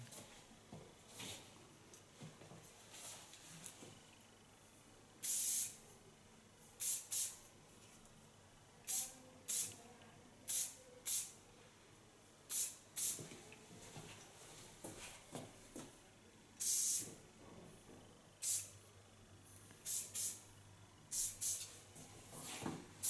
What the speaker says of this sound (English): The nice thing of a spray like this is that you can restyle it over and over again.